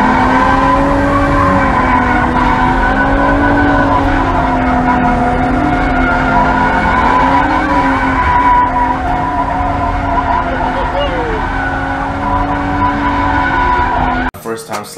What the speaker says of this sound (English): I was trying to get a video of this thing sliding because it just sounded good